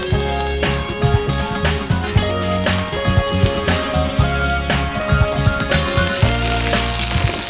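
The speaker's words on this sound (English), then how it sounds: "Little bit of searing on that sausage, yeah." Spicy, tangy sausages searing in a pan, a steady sizzle under a layer of background music with a repeating rhythmic pulse, no talk.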